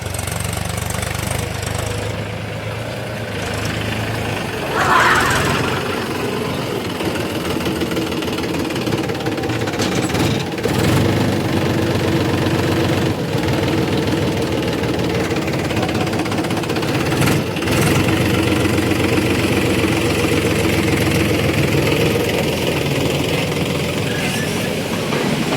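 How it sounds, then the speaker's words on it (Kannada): A tractor engine runs steadily in a farm field where new soil is being spread, a loud continuous diesel rumble with rough knocking texture and no voices. "ಹರ್ಷ ಟ್ರ್ಯಾಕ್ಟರ್ನಲ್ಲಿ ಬಂದಿದ್ದಾನೆ ಇವತ್ತು."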